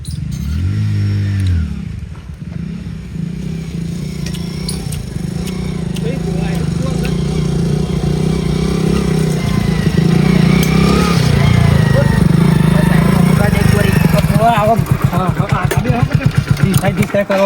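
A motorcycle rides slowly with a steady low engine drone that grows louder through the middle, as people talk loudly over it.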